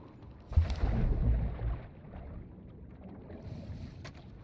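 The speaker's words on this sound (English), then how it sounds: "They've got a patrol boat in the harbor" A patrol boat engine in a harbor in Call of Duty: Modern Warfare 2 (2022) rumbles nearby, loudest for a second or two, then fades into a low drone with wind noise.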